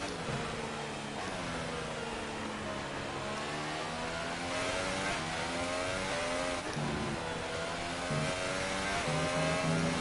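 A Formula 1 car in the F1 2018 racing game revs hard at high pitch, climbing and dropping through repeated gear changes in a continuous, close and loud engine drone with no speech.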